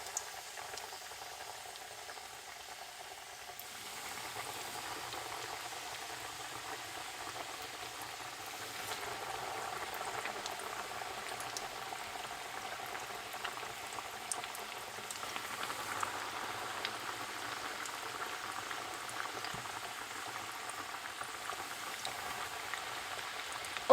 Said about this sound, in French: on va frire nos morceaux de poulet pané. Donc, je mets de l'huile chauffée.